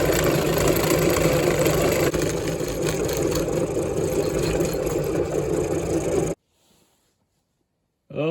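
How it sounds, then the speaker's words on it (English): A metal lathe turns a bung from a bolt and nut clamped in the chuck, giving a steady loud machining hum for about six seconds, then cuts out to near silence before a brief burst of noise at the end. "Got our bolt and nut all checked up in the lathe here, and we'll start turning ourselves a bung."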